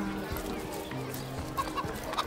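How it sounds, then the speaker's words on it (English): Chickens and roosters cluck around a market in Cyseal in the video game Divinity Original Sin, short fowl calls scattered over a busy ambient background. "Lots of chickens and roosters around."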